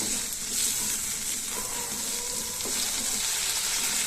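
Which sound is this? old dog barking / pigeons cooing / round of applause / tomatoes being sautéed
tomatoes being sautéed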